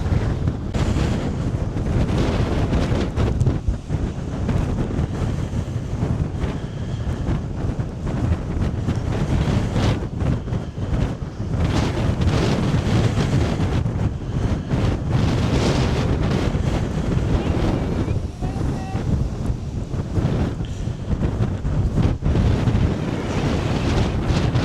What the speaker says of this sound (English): Pretty blowy living here.